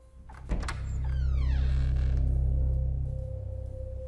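An old basement door swings open in a quiet house, giving a short knock followed by a long descending creak over a steady low hum, close and moderately loud.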